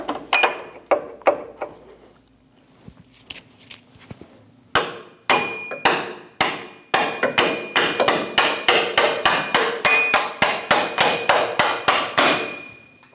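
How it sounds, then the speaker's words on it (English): Steel hammer tapping a control arm bolt through on a 2001-2006 Chevrolet Silverado 2500 HD, a few slow metallic strikes, then a fast steady run of sharp ringing blows, loud and close. "I'm going to install the bolt and tap it through"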